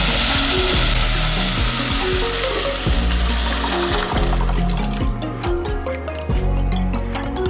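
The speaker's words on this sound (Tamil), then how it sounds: "கடைஞ்சி வச்சுருக்க இந்த கீரை குழம்பெல்லாம் ஊற்றிக்கலாங்க." Ground coriander greens curry poured into a hot pan, with loud close sizzling and liquid squishing and bubbling that eases off toward the end, alone with no talk.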